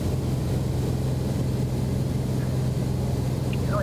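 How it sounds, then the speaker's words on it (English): A small aircraft's engine in winter flying, heard through a phone call as a steady, continuous low drone with a constant hum that holds evenly throughout. "I can hear the engine noise through your phone."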